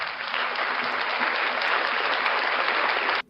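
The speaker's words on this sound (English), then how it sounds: "round of applause for Frauditor News Network" A crowd at a live evening show breaks into a round of applause, loud, dense clapping that holds steady for about three seconds before cutting off abruptly.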